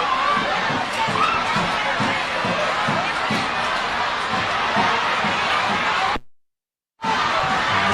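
Football fans at a men's provincial final between Saravane and Attapeu cheer and chant in rhythmic bursts, a loud crowd roar that cuts out briefly near the end before resuming.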